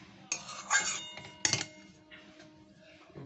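Milk and sugar stirred in a pot for kheer, with a few metallic clinks and scrapes of a spoon against the pot's side, close and moderately loud, then quieter faint scraping.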